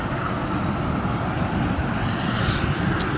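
A fixed-wing cargo aircraft turns onto the runway at East Midlands Airport, its engines giving a steady, loud, continuous roar with no voices over it.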